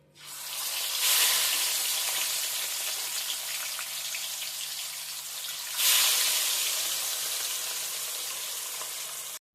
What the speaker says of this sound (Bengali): তেল গরম হয়ে গেছে এক এক করে আমি মাছের পিসগুলো দিয়ে দিচ্ছি